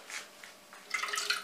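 Water pours and trickles into the pan of a Gorenje bread maker, a faint, close splashing that grows busier toward the end.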